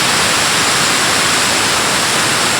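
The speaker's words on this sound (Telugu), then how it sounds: "మెత్తగా మిక్సీ పట్టుకోవాలి" A kitchen mixer grinder whirs loudly and steadily as it grinds lightly fried coriander seeds and coconut powder in a mixing jar. The roar is close, even and unbroken, with no voices.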